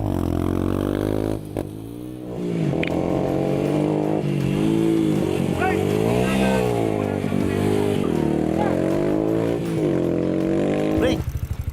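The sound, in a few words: off-road motorcycle engine revving on throttle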